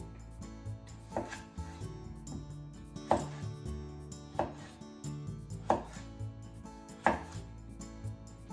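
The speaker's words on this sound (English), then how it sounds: "Let's cut the potato into either shoestrings or wedges." A knife cuts potatoes into wedges on a board, sounding as a series of sharp, distinct chops spaced a second or two apart over a low steady background, with no voices.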